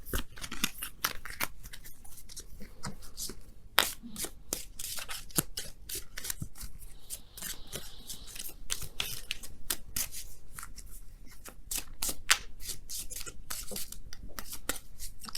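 A deck of oracle cards is shuffled by hand, giving close, crisp riffling and sliding card sounds in quick repeated flurries, with no talking.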